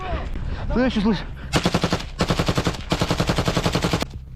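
Rapid machine gun bursts rattle out during a close-quarters trench raid, several sustained volleys of evenly spaced shots with a short gap between them, loud and near, following a brief unclear voice at the start.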